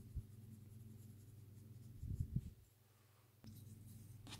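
A coloured pencil scratches across paper while colouring a night-scene jungle background, a faint steady scraping with a few brief louder strokes partway through, heard alone in a quiet room.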